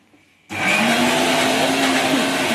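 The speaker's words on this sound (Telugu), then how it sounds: "మా అబ్బాయి చట్నీ మిక్సీ పడుతున్నాడు" Silence, then a kitchen mixer grinder grinding chutney whirs loudly and steadily, motor running continuously at close range.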